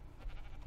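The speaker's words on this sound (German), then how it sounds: "Ein Schaf. Hallo Schaf." A sheep bleats in the video game Ark, a short wavering bleat over the game's low background ambience, with no talking.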